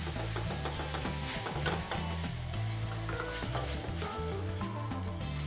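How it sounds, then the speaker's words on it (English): A whisk beats broth into flour and butter cooking in a pot, making a quick, rhythmic scraping and clatter over a soft, constant sizzle, close and fairly quiet. "And you want to start whisking right away."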